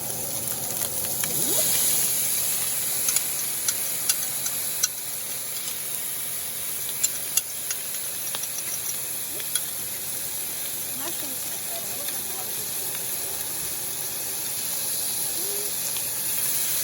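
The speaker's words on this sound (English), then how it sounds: "So we're going to cook this, stir this until it's thickened, 1 to 2 minutes." Sriracha pork stir-fry sauce with butter sizzles and hisses steadily in a hot pan as it is stirred to thicken, a continuous close frying noise with scattered light utensil taps.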